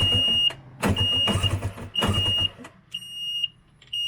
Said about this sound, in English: I think that's the low oil alarm